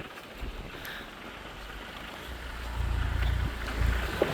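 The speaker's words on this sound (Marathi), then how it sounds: "हे बघा इथं ट्रॅक्टर पण चालू झाला" A low engine rumble of a tractor ploughing a field nearby, steady and growing louder toward the end, with wind noise over the microphone.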